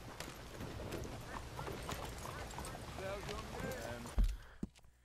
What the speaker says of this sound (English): Time to get back on the horse.